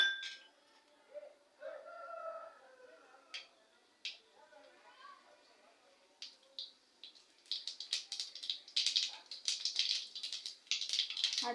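Mustard seeds dropped into hot coconut oil give a dense run of small, bright crackles and pops building over the second half, after quieter kitchen clinks and faint background sounds.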